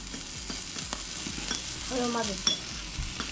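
Food sizzles steadily in a frying pan at home as it is stirred, a close, continuous crackle with one brief spoken remark over it.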